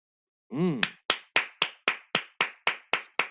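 A woman claps her hands about ten times in a slow, even rhythm, each clap sharp and close, just after a short vocal sound.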